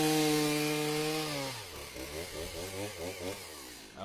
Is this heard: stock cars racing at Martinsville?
no